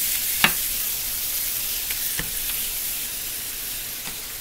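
Ground meat for a bacon cheeseburger pizza fries in a pan at home, giving a steady close sizzle and hiss throughout, broken by a few brief clicks and taps from a utensil pressing the meat down.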